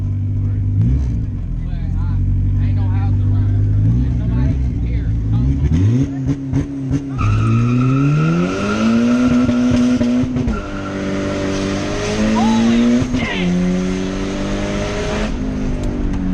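A very fast car accelerates hard at a car meet in Mexico, engine roaring up through rising gear pulls with loud tire squeal and skidding, heard close from inside, with excited voices shouting over it.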